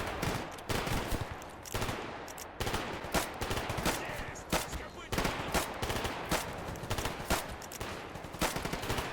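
Rapid bursts of automatic gunfire crackle through a firefight with bandits in Stalker Gamma, loud and near, with overlapping shots in irregular volleys that keep going almost without a break.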